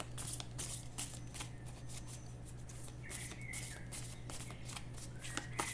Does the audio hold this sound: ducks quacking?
no